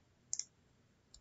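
Two quick mouse clicks in close succession, then a single click a moment later, crisp and close in a quiet room while records are added in Microsoft Access.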